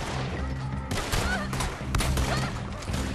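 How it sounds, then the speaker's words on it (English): Shotgun fire in the online Western video game Red Dead Redemption 2 Online: loud repeated blasts with crackling echoes over a dense, continuous game soundscape, several shots packed into a few seconds, no speech. "As you can see, the shotgun is a little bit OP."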